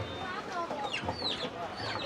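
Chickens cluck and squawk at a busy poultry market at Tongi in Gazipur, Bangladesh, in a dense overlapping chorus close by, with people talking underneath.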